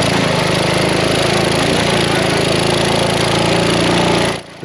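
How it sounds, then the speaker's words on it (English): A mini bike's stock 196cc engine with an aftermarket muffler runs steadily at close range, a loud, even mechanical drone and exhaust rumble that cuts off near the end. "The stock 196cc engine is fairly fuel efficient. It sounds pretty good with an aftermarket muffler on it."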